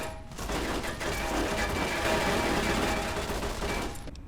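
Automated turrets in Fallout New Vegas fire dense, continuous bursts of gunfire that stay loud and close for several seconds without a break.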